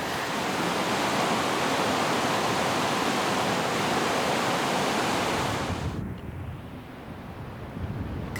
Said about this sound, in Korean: 옆에 물소리는 자연의 교양악 같지 않아?